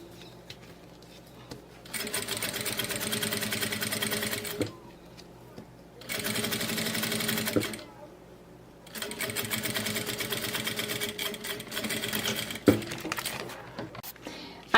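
A sewing machine stitches bias binding onto a handmade fabric bag in three bursts of rapid mechanical whirring, each several seconds long, with short quiet pauses between. The sound is close and clear.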